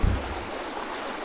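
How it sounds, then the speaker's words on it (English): A river flowing steadily outdoors, with a broad, even wash of moving water and a brief low thump at the start. "The river comes all the way from that side,"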